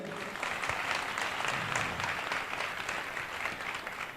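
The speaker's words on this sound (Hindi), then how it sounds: "Hallelujah. हालेलुया, जोरदार ताली बजाइए।" Audience applause at a church leaders' revival conference in Karachi, Pakistan: a dense, steady round of clapping from many people that swells quickly and holds for several seconds.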